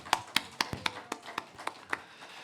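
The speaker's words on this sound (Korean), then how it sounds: "우리 하나님 앞에 감사와 영광의 박수를 올려드리겠습니다" A church congregation at a Sunday afternoon praise service in Daegu claps, giving about nine crisp, evenly spaced claps in a quick steady rhythm with no voices.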